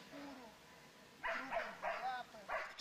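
A dog in obedience training gives a few short, yelping barks in quick succession, close by, after a brief stretch of soft whining.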